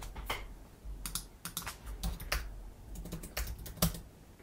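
Keys clack in a quick run of sharp, close taps on a computer keyboard as a short search term is entered into a PrestaShop module manager, with a few irregular bursts and no talking.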